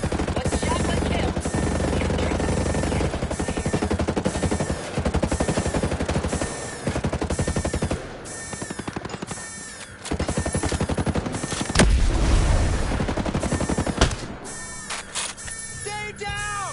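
Heavy gunfire from Ghost Recon Breakpoint on PS4, with rapid repeated shots and loud bursts running through most of the stretch amid game effects and a shouting voice.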